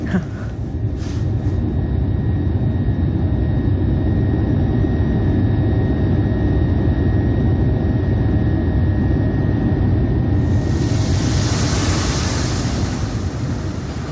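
Aircraft jet engine noise heard from inside the cabin during a flight, a steady low roar that holds for the whole stretch, with a brief hiss of air toward the end.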